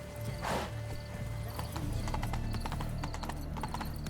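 A horse in The Witcher 3: Blood and Wine gives a loud, close whinny early on, followed by a steady run of clip-clopping hooves with no talk.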